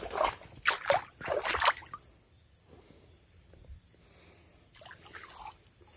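Bare feet wading through cold creek water, a few close splashes and sloshing steps at the start that fade into quiet trickling, with insects chirping steadily in the background.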